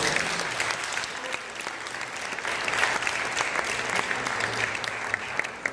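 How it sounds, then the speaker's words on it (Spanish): A church congregation at a Spanish-language sermon gives warm, continuous applause, a dense wash of many hands clapping throughout, with faint voices mixed in. "Dale un aplauso."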